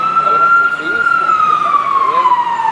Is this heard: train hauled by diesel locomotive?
no